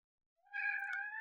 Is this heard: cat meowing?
yes